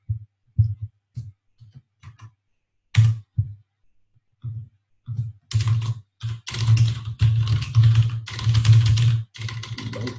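Computer keyboard typing during a development meeting: bursts of close keystrokes, sparse at first then a dense rapid run, over a steady low hum.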